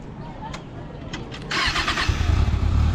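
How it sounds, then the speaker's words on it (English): A superbike with its stock exhaust fires up partway through, cranking then catching into a loud, rough low rumble that settles into a steady idle close by, with people talking faintly before it starts. "Now he is going to start the bike so that we people can hear the sound note."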